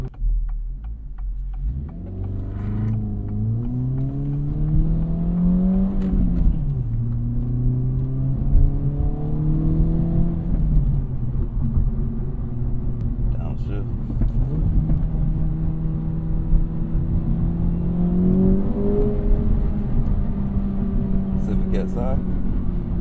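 An Acura Integra Type S with a limited-slip differential revs hard under throttle stabs while turning, its engine note rising and falling in loud sweeps inside the cabin as people talk over it.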